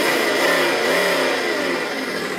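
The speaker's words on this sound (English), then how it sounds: "going forward at the same time will turn the engine on and the sound on at the same time" An RC 1970 Dodge Charger's V8 engine sound module plays a loud, close, continuous engine drone with pitch sweeping up and down as if revving, with no talk.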